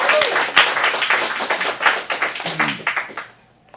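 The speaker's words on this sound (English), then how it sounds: "Let's get a big round of applause for Ted Lasso" An acting-studio showcase audience in Phoenix claps and applauds, a dense burst of hand claps that thins and fades out toward the end, with a few voices mixed in.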